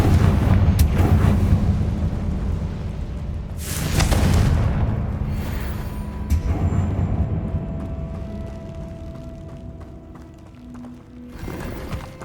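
Confringo explosion spells from Hogwarts Legacy go off as loud booming blasts, two big bursts with rumbling tails over a dense, busy game soundscape.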